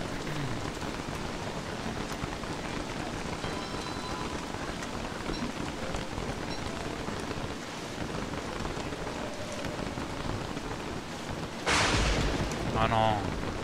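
Steady rain falls in the video game Don't Starve Together, a constant dense patter throughout, with a brief brighter burst of other game sound near the end.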